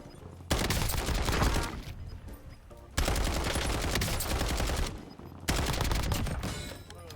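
PPSh submachine gun firing in Call of Duty Black Ops 6 Warzone, three long sustained bursts of rapid automatic fire, each lasting about two seconds, loud and close with short gaps between.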